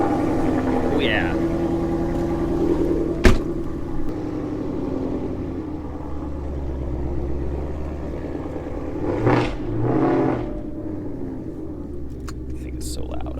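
A Buick Riviera with a newly fitted exhaust idles and rumbles steadily in the background, with a brief rise in engine noise partway through, while a person talks over it.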